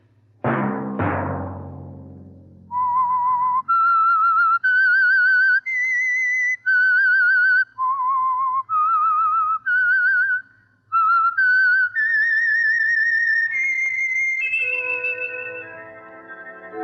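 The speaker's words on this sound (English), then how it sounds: "Let that whistle be your signal for the Signal Oil program, The Whistler" Two sharp percussive strikes open the eerie whistled theme of the radio mystery program The Whistler, then a lone clear melodic whistle rises and falls through a series of sustained notes before a closing chord of music.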